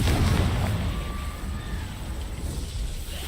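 Confringo fire-spell blast in the Hogwarts Legacy video game, heard as a loud, sustained booming rumble that fades gradually over a few seconds, with no speech.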